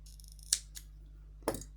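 Scissors cutting crochet yarn on a small crocheted Halloween bat, with two crisp, close snips about a second apart over a low steady hum, and no talking.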